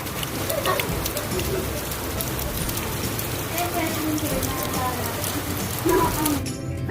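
Steady rain falls as a dense, even hiss with scattered drops, constant throughout, with faint bird chirps and a voice speaking over it.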